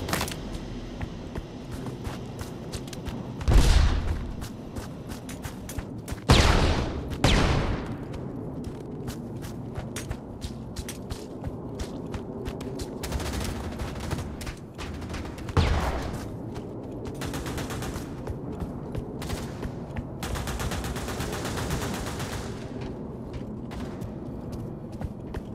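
Gunfire during a chaotic night-mode gunfight in the VR game Pavlov on PSVR2, with a few loud bursts standing out over steady mechanical clatter and background game noise.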